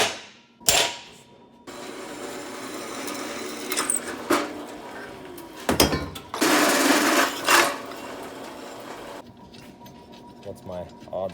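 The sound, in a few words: center punching and drilling holes in metal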